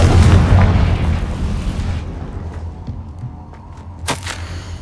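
Confringo explosive spell in the video game Hogwarts Legacy goes off as a loud, booming blast that rumbles and fades over a couple of seconds, followed by a sharp crack near the end.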